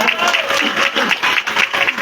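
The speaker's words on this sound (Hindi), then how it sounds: "एक बार तालियां बजा दीजिएगा" A crowd applauding at a Ram Katha religious storytelling gathering, close, loud and dense clapping that continues steadily throughout the short stretch.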